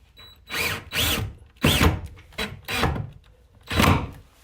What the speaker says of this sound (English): Next thing up is for me to go ahead and drill the screw in.